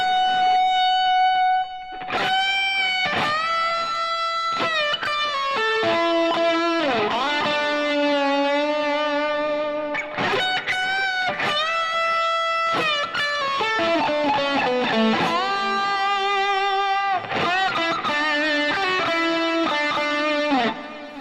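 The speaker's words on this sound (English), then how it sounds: "I think we could be doing with a wee bit more push from this first distortion pedal." An electric guitar through a distortion pedal with extra drive, dialed toward a lead tone, playing sustained bent notes and fast phrases continuously and loudly for the whole stretch.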